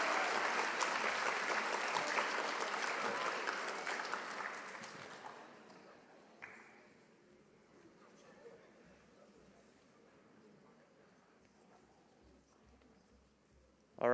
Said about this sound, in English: So let's give a round of applause for them as they're making their way up.